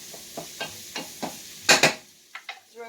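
Minestrone soup vegetables being tossed and stirred in a hot pot, a series of rhythmic scraping strokes with crackling sizzle, louder bursts near the middle, close and without talk.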